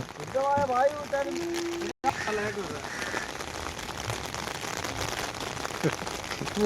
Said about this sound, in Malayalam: ഈ മഴ കൊള്ളാനുള്ള ഒരു യോഗം എന്ന് പറയാം